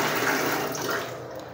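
Hot water gushing steadily from a tap in a Tirumala guest room bathroom, a close, loud, continuous splashing stream that eases slightly toward the end.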